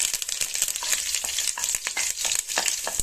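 Curry leaves crackle and spit in hot oil while cooking gooseberry pickle, a dense sizzle broken by sharp popping bursts and stirring scrapes, close and continuous without talk.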